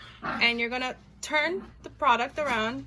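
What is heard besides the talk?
dogs barking in the background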